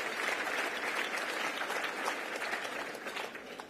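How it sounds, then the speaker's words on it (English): Audience applause at a civic research bureau's annual meeting in Boston, a steady wash of clapping from a large seated crowd, loud and continuous throughout with no speech over it. "Round of applause for him."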